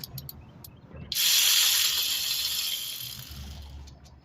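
Ratchet loosening brake caliper bolts on a 2014-2019 Kia Soul, a few quick clicks followed by a loud hissing burst that fades slowly, close by with no talking.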